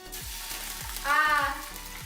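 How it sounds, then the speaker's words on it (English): Salmon fillets frying skin side down in a hot oiled pan make a continuous crackling sizzle with a brief louder spit midway, close and without speech. "So we're going to be placing the salmon skin side down on the pan first"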